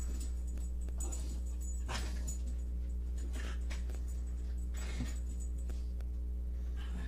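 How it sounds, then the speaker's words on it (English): Dogs underfoot whimper and yip in short, scattered bursts under a steady low hum, the sounds close and fairly quiet. "My dogs are under my feet and they're jacking with my cords and everything's about to go flying"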